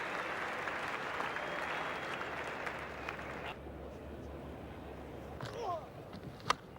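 A test match cricket crowd in Australia applauds a shot, dense sustained clapping that gradually thins and fades into scattered claps and faint stadium ambience.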